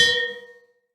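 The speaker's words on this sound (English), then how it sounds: "Ring the fucking bell." A single bell struck once, ringing with a bright metallic clang and a clear sustained tone that decays to silence within a second, heard alone.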